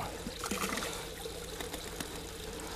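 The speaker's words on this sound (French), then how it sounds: "ce que j'aime bien faire, c'est rincer mon petit récipient" Water trickles and splashes as a small container that held pond bacteria is rinsed, producing a steady, fairly faint liquid patter with a few small clinks, and no voices.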